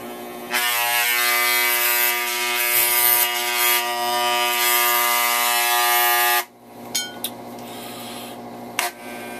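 Electric hair clippers giving a buzz cut trim at the back run with a steady close whirring drone, then switch off, leaving a few faint clicks and rattles.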